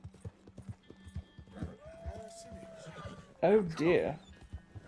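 Hoofbeats of a horse galloping in Red Dead Redemption II, with a steady clip-clop of hooves and a brief whinny near the end, heard under a man's speech.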